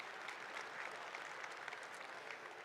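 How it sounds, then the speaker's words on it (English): Audience at a political address applauds, a dense continuous wash of many hands clapping, steady and fairly faint as if heard from a distance, with no voices above it. "By round of applause, how many of you had a chance to make your way to the trade show"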